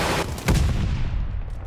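Gunfire from a first-person shooter game, a loud pistol shot bursting out near the half-second mark amid continuous in-game battle noise with further scattered shots.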